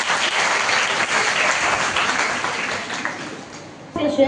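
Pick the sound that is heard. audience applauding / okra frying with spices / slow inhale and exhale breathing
audience applauding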